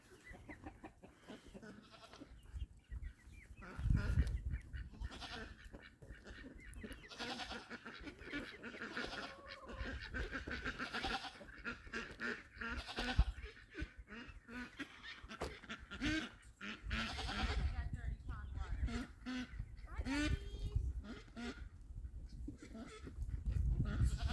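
Ducks at a pond in an orchard quack and call among other farm animals, overlapping bleats and clucks rising and falling over a busy outdoor background for about twenty-four seconds, with no clear talk.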